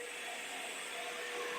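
A snow machine's pump priming itself with fluid gives off a steady, loud, vacuum-cleaner-like whine and whoosh, constant throughout with a few faint tonal lines and no voices.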